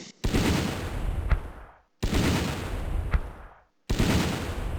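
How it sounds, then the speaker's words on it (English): Mortar fire in the Eastern Front wargame Battle Academy 2, set near Moscow in 1941: three loud, booming blasts at roughly two-second intervals, each with a rumbling tail that fades before the next. "let's put some more mortar fire on them"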